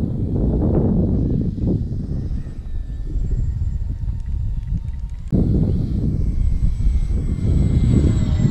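An FT Corsair RC model airplane taxis on the ground, its electric motor and propeller buzzing loudly and steadily with a dip in the middle before the throttle rises again, close by.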